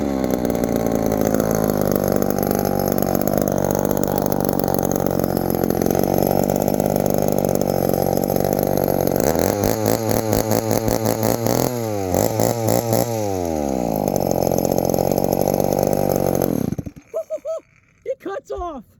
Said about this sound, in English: You need to get rid of those old chainsaws.